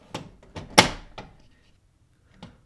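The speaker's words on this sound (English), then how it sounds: "you just have to close this small door here" The small cartridge access door on an HP Deskjet 4120 printer is shut: a few light plastic taps lead into one firm, close thunk, with a single soft click after a brief pause.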